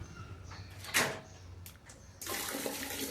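Water turned on and rushing through a 6-litre gas geyser during a home repair: a steady broadband hiss of flow starts abruptly partway through and continues, after a few brief clanks and bumps of handling.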